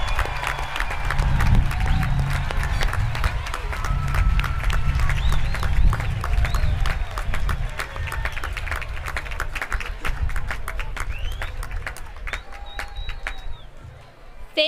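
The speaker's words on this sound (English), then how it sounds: "let's give a huge round of applause for the class of 2025." At a 2025 high school graduation ceremony, a large crowd gives the graduating class a long round of steady clapping mixed with cheers and whistles, loud at first and gradually thinning over about fourteen seconds.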